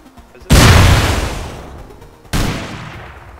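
A rocket blast blowing up a sign in the game Rust: a loud, sudden boom that rumbles and decays, followed by a second explosion about two seconds later.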